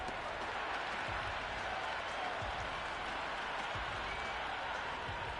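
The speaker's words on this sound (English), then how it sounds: "It's almost palpable, the excitement emanating from this crowd at the moment." A stadium crowd at a cricket match in the video game Cricket 26 cheers and applauds in a dense, continuous roar, with no break in the noise.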